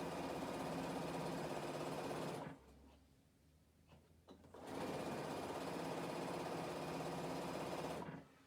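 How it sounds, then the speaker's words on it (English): A sewing machine running on slow speed stitches along a bag gusset, a steady close mechanical whir that stops briefly for a couple of seconds, then resumes just as evenly before cutting off near the end. "So I'm just stitching all the way along the length of that gusset."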